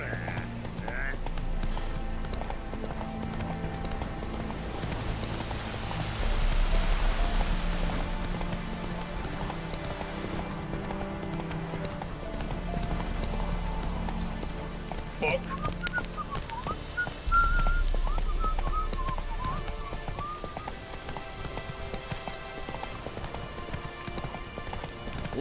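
A horse galloping in The Witcher video game, steady rhythmic clip-clop of hooves with a whinny and wind-like ambience, loud and continuous.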